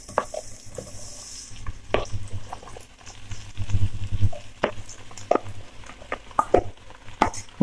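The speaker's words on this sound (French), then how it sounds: "je verse les endives dans le plat" Endives poured into hot oil in a cooking dish, sizzling steadily with stirring and scraping sounds, a low background hum and a few sharp clinks of utensils against the pan.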